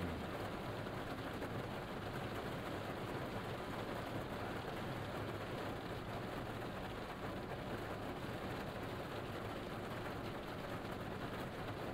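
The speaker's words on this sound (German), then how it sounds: "Boah, diese Regengeräusche sind so entspannt, ne?" Steady rain pours in a bus-driving video game during a storm, a dense, even hiss of falling drops running continuously at moderate level with no talk over it.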